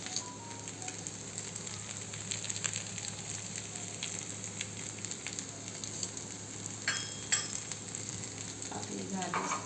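Appe dumplings cook in an appe pan, giving a steady soft sizzle and gentle frying crackle throughout, with occasional faint clinks from turning them.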